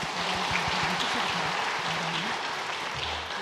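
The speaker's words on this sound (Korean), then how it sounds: "박수 올려드리겠습니다" A congregation claps together in a church sanctuary during a year-end Sunday worship service, a dense steady patter of many hands filling the room without a break.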